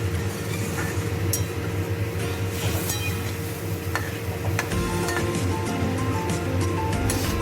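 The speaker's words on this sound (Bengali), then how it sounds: "ঝোলটা ফুটে এসছে" Fish curry broth for spicy katla fish coming to a boil in a pot, a loud dense bubbling and sizzling roar that runs continuously, with scattered clinks of a utensil against the pot.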